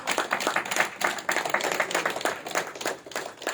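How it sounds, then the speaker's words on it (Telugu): Audience clapping for Achireddy at a Telugu Pyramid Masters meditation discourse, a dense, steady patter of many hands held at moderate loudness for the full few seconds, with no voices over it. "అచ్చిరెడ్డి గారికి గట్టిగా క్లాప్ చేసుకుందాం"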